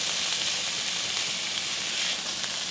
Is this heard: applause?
no